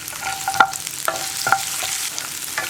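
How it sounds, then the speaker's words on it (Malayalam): Sliced onion and green chilli frying in a pan, a steady close sizzle with a few light scrapes of a spatula against the pan. "ഇനി ഇതിലേക്ക് നമ്മൾ ചേർക്കുന്നത് നമ്മൾ കട്ട് ചെയ്ത് വെച്ചിരിക്കുന്ന ഉള്ളിയാണ്."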